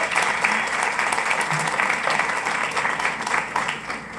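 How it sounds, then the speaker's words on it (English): Audience applause for the Hispanic Heritage Council at a Hispanic Heritage Month event, steady crowd clapping that fills the whole stretch, with faint voices mixed in. "let's give a round of applause to the Hispanic Heritage Council"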